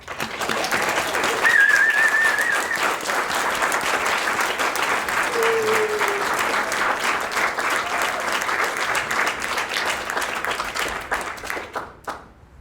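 An audience at an artist talk at the Bermuda National Gallery welcomes Jacqueline Alma with a round of applause: steady, full clapping from a sizeable crowd, briefly touched by a whistle, holding for about eleven seconds before fading out.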